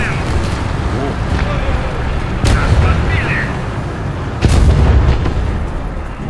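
Tank cannons fire in the War Thunder video game with two heavy, booming shots a couple of seconds apart over a continuous rumbling battle din, as a player talks throughout.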